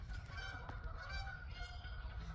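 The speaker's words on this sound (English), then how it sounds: "That's the Canada geese again" Canada geese honking repeatedly in a noisy chorus near a garden on a warm spring day, steady and moderately distant, with no talking.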